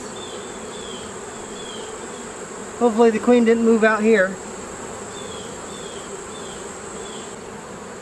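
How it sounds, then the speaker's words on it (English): Honey bees hum in a thick, continuous drone around a hive box while a person briefly speaks over the buzzing midway through. "A lot of bees on the back of the box."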